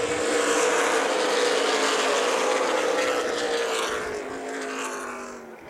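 ARCA/CRA Super Series stock cars roaring around the Toledo Speedway oval in the 7-Up 100, a dense sustained engine drone from several cars passing together, loud and fading slightly toward the end.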